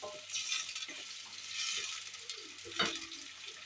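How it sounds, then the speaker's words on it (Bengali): Onions frying in a pan are stirred, a soft continuous sizzle broken by scraping strokes and a brief clink of utensil on metal, close and moderately quiet, with no talking. "একটু নাড়াচাড়া করে নেব।"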